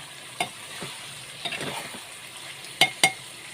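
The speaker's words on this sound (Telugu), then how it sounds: "చూస్తున్నారా, ఇలా ఫ్రై కావాలి." Chicken pieces frying in a pan crackle with a low steady sizzle, punctuated by several sharp metallic utensil clinks and scraping stirs, close by and with no speech.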